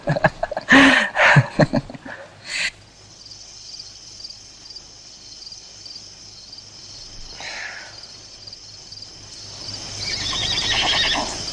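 A horse whinnies loudly and close in a burst of neighs over the first few seconds. Afterward a steady chorus of crickets carries on alone in the background.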